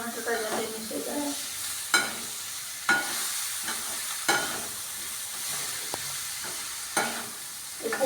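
Chopped tomato being stirred into potatoes frying in a pan, a soft continuous sizzle with periodic scraping knocks of the spoon against the pan, close up.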